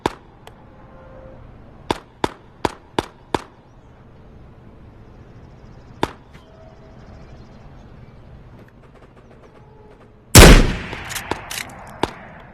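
Gunfire in the video game Ghost of Tabor with the Eastwood DLC: a quick run of five sharp shots, then single shots spaced apart, and finally a loud burst with trailing cracks near the end, with no talking.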